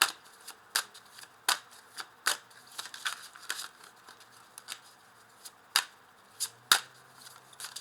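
Tarot cards being shuffled and laid down, a series of crisp, sharp snaps and flicks at an irregular pace with soft rustling between, close and fairly quiet, no voices.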